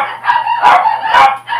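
A rooster crows loudly and close by, two strong calls in quick succession over a faint steady hum.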